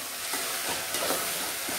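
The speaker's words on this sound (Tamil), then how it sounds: "ரெண்டு ஸ்பூன் மல்லிப்பொடி, 1 spoon கரம் மசாலா, இதெல்லாம் சேர்த்து நல்லா வதக்கிடலாம்." Coriander powder and garam masala sautéing in a hot pan for a mutton curry, a steady soft sizzle with a few scraping stirs of the spoon through the spices, close and fairly quiet.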